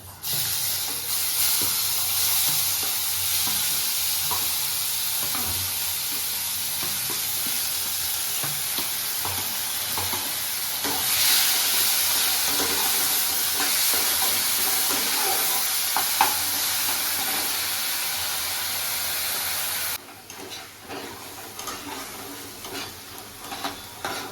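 Onion and chili paste sizzles steadily in a hot pan while being stirred, a continuous loud frying hiss with scraping strokes, easing down near the end.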